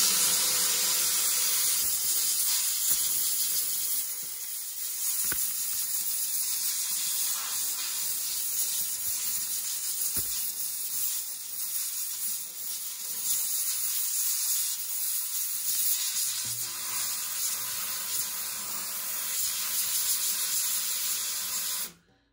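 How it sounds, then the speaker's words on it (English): A Hoffman jewelry steamer blowing off steam, a continuous loud hiss held steady for about twenty seconds before cutting off abruptly. "this is a Hoffman jewelry steamer. And I'm just going to blow it off real good with steam."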